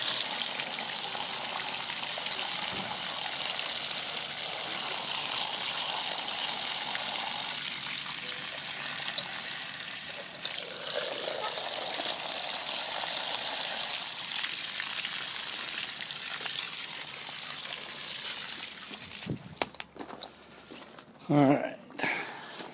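Running water sprays and splashes steadily while rinsing dirt out of an air filter from a 2004 Harley Davidson Fatboy, a loud continuous hiss that breaks into a few knocks and drips near the end; someone talks over it.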